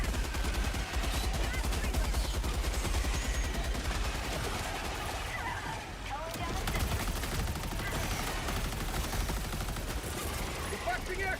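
Dense, continuous video-game gunfire fills the whole stretch, rapid overlapping shots and bursts at steady loudness, with no pause.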